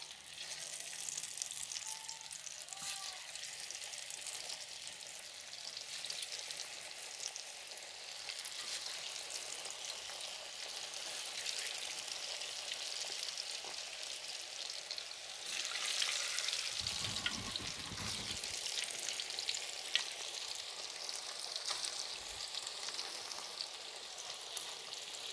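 Tofu rambutan snack balls frying in plenty of hot oil: a steady, dense sizzle that runs throughout, close and even, swelling slightly midway as the food is stirred, with no voices.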